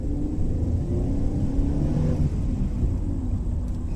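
A car pulls away from traffic lights, its engine a steady low rumble that swells as it accelerates, heard from inside with no talking.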